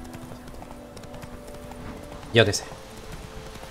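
Horse hooves clip-clopping in the video game The Witcher 3, a steady trotting rhythm at moderate level under someone talking, with a brief louder burst partway through.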